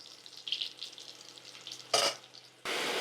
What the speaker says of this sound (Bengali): প্রথমে আলুটা একটু ভেজে নেব